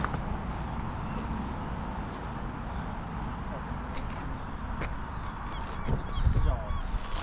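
Geese honk outdoors by icy water along Lake Erie, scattered calls mixed into steady wind-like noise, with a louder burst near the end.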